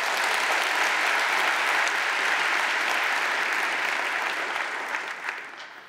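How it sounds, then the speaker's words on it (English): A conference audience at a lead-developer tech event in London breaks into loud, sustained applause, a dense even roar of clapping that holds steady and then fades over the last second. "Give her a round of applause for that."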